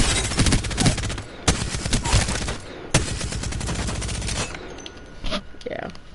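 Rapid fire from a minigun-style gun in Apex Legends, sustained streams of shots with a few punchy bursts, someone talking over the gunfire.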